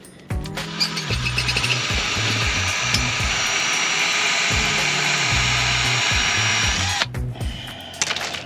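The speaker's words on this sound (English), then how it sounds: "So we just want to go ahead and drill a hole through there." A power drill bores a hole through a metal RV tow guard, whining loudly and steadily for several seconds after a quick start, then stopping with a short tail of handling noise.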